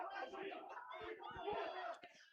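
Spectators at an under-11/under-12 youth football match shout together for a card, a loud mixed chorus of voices lasting about two seconds before trailing off.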